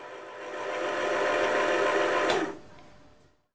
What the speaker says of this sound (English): You can see the bobbin turning as I press the foot pedal.